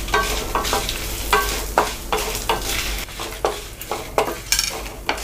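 Dried red chillies and curry leaves frying in a pan, a steady sizzle broken by repeated scraping stirs of a spoon against the metal, close and fairly loud with no talk.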